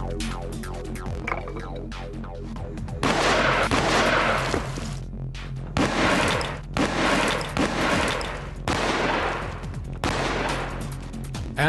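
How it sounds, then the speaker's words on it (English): Several heavy blasts from a reproduction cannon fired at point-blank range into an unreinforced brick wall boom out one after another, each followed by crumbling debris and a rumbling tail, with no voices. "Each side will be shot at from point-blank range with this reproduction cannon."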